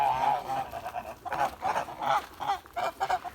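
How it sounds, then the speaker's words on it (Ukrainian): Two ganders honk repeatedly in a farmyard poultry flock, with loud, close, uneven bursts of nasal calls following one another with no talking. "От бачите, ті два гусаки"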